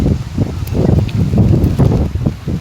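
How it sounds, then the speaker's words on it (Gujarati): Wind gusts with rain in a Gujarat village during a cloudburst-type downpour, a close, steady rumbling roar buffeting the microphone for a few seconds with no voices. "તમે જો પવન સાથે વરસાદ છે"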